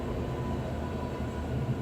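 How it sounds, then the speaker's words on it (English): Loud, steady rumble of a train going by, a dense low roar with clattering texture filling the whole stretch without a break. "that was a loud train"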